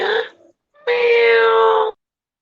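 A person imitates a cat's meow for a children's story, giving a long, sustained, whiny vocal meow of about a second after a short vocal sound, close and loud.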